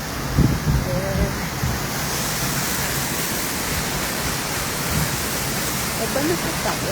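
A waterfall roars as a steady, broad rushing wash that stays fairly loud and even throughout, with a few faint voices briefly in the background.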